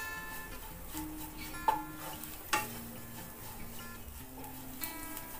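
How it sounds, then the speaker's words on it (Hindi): Dried desiccated coconut dry-roasting in a kadhai, with soft continuous stirring scrapes and light crackle, a couple of sharper clinks of the spoon against the pan, no talking. "सूखा हुआ नारियल, और इसको भी हम हल्का ब्राउन करेंगे।"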